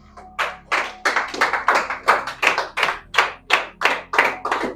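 A church congregation applauding with a steady run of loud, fairly rhythmic claps that come close together, with no voices over them.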